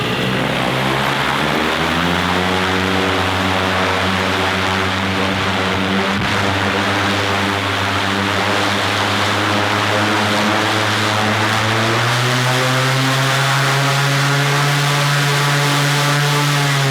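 A new paramotor engine revs hard and steadily, a loud, close propeller drone holding a dense harmonic buzz that climbs in pitch near the end, with wind gusting and no voices.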